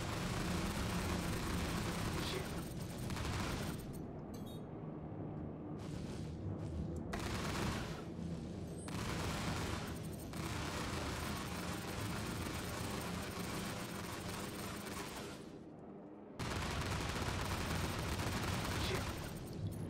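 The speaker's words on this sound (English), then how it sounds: "Oh, he's shooting at our ship." Rapid spaceship gunfire in a video game, dense bursts of shots and explosive crackle running almost continuously, with brief gaps and a steady engine-like rumble underneath, while a voice talks over the action.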